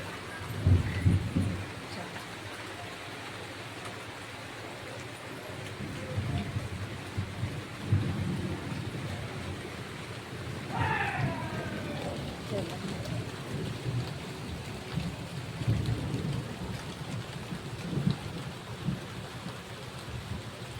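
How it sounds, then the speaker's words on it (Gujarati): Steady rain patters throughout while low thunder rumbles roll in and out, with occasional voices and a short whistling call mid-way. "ફાઇનલી આ તો વરસાદ ચાલુ થઈ ગયો"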